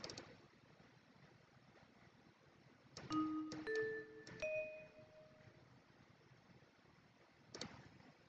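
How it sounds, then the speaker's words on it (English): Synthesized bell tones from a music plugin, made for Mega Man X theme music, ring out as a few short, clear chimes in the middle, with a final soft strike near the end over a faint hiss. "I think these are the right bells."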